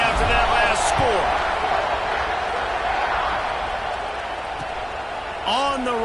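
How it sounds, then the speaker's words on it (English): A college football stadium crowd rumbles and buzzes as a broad, steady roar after a score, with a commentator talking over it throughout. "this crowd is buzzing after that last score"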